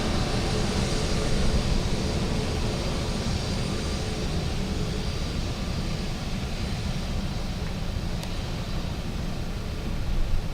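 Steady, loud broadband roar of an aircraft on approach to runway 28 left at Dublin Airport on a wet day, continuous and unbroken throughout, with no voices.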